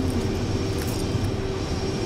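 Jet fighter taxiing on an airfield taxiway in the combat flight game Ace Combat Assault Horizon, a steady broadband engine roar with a low rumble and a thin high whine, continuous and even throughout.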